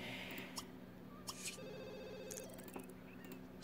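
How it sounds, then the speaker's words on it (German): A telephone rings in The Sims 2, a faint repeating electronic ring with a few brief clicks from the game's interface scattered around it. "Geh halt ans Telefon."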